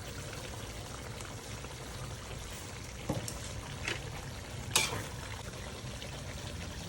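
Patis, a fish sauce, is poured into a pan of humba with pork belly, making a faint, steady liquid stream under light background hiss, with a few small clinks.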